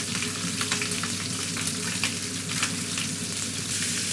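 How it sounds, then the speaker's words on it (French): Chicken laid skin-side down sears in a hot pan with a dense, continuous sizzle and crackle. The sound stays close and steady throughout, with only a faint hint of voice in the background. "Donc là, tu vas le saisir. Tu le mets côté peau."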